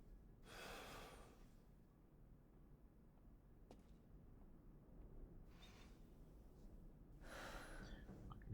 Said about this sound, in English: I can hear Ethan breathing,